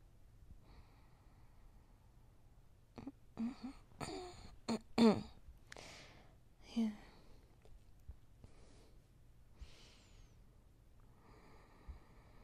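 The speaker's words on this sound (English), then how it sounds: "just breathe with me" Slow, deep breaths in a close, hushed comfort-and-sleep recording, with soft snort-like inhales and sighing exhales spaced apart over faint background hiss, plus traces of quiet whispering.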